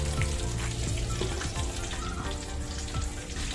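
Pork belly (liempo) sizzles steadily in a frying pan, a loud, continuous crackle of hot oil with occasional stirring and scraping, no voices.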